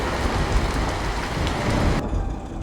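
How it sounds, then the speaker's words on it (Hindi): Steady heavy rain hisses throughout, with a low rumble of thunder rolling beneath it. "बिजली कड़कने के साथ साथ तेज हवाएं चलने लगी और हल्की हल्की बारिश भी शुरू हो गई"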